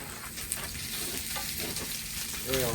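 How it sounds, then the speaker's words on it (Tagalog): Adobo and hot dogs frying in a pan, with a steady close sizzle and occasional stirring clatter throughout, no talk. "Cook adobo and then cooking the hot dog."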